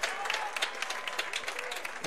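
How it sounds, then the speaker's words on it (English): Fans applaud at a soccer match, a brief burst of dense clapping from the crowd, steady and fairly close, with no voices over it. "That's a round of applause from the fans."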